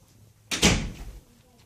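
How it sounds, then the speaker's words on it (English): A house door pushed shut, one solid thud with a short rumble that fades, heard close by and alone between quiet moments. "Close the door."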